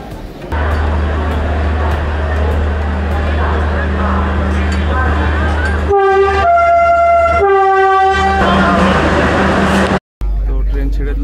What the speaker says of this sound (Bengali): আমাদের এই বন্দে ভারত এক্সপ্রেস 7 নম্বর প্ল্যাটফর্ম থেকে ছেড়ে বেরিয়ে যাচ্ছে